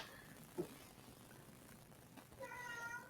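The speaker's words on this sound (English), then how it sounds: "That's my cat." A pet cat gives a faint, short meow at close range, with a second soft, drawn-out meow near the end over quiet room hiss.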